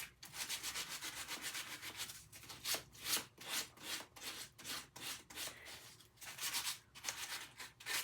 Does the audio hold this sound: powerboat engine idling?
no